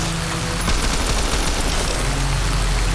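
Dense, continuous gunfire in Fallout: New Vegas crackles in rapid bursts, loud and close, with a low droning hum underneath.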